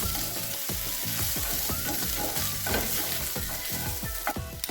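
Leafy greens fry in a pan as ginger paste is stirred in, giving a constant loud sizzle broken by rhythmic scraping strokes of the spoon, close up with no talking.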